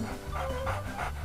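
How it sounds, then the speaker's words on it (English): A puppy pants close by in quick, rhythmic breaths, a short soft burst of huffing with no voices over it. "Aw, look at the puppy. Come here, puppy."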